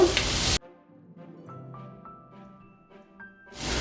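Crushed garlic, ginger and green chili frying in a hot pan: a loud, close hiss of sizzling that cuts off abruptly, leaving faint quiet kitchen tones, then surges back at the end.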